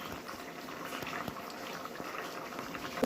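Rui fish and fish roe kalia curry boiling steadily in a pan, a continuous close bubbling hiss with small pops, no voices.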